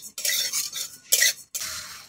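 Fennel seeds dry-roast in a pan, stirred with a metal utensil in three separate bursts of close, scraping, rattling clatter divided by short silences.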